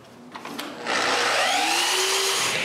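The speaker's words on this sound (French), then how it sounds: "quand je mets en marche ma sableuse, allumer la lampe. Et la lampe fait partir l'aspirateur" An edge sander starts up together with a shop vacuum, a few clicks and a short thump giving way to a loud, steady whining roar that holds on without pause.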